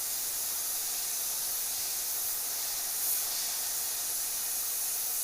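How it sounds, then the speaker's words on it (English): An airbrush sprays paint in a continuous, steady hiss that holds close and even for several seconds, with no one talking. "His cheek, I can get his cheek without spraying the whole thing out."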